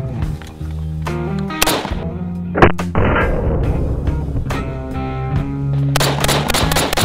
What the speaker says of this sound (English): next we'll be shooting the M1A. This is one of the great 308 rifles.